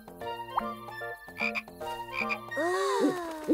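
A cartoon frog croaks in an animated children's show, a few short croaks mixed with tonal music-like effects and a rising whistle near the end, clear and close.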